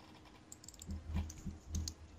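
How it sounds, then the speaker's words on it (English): Quiet computer keyboard clicking and typing, a cluster of soft irregular keystrokes building into a few louder bursts, heard faintly in the background. "I can hear you clicking, you cheating bastards."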